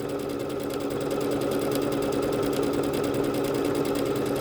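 A Bernette B-77 embroidery machine stitches out a pattern with a steady, fast mechanical whirring and rapid needle chatter, continuous and close with no talking.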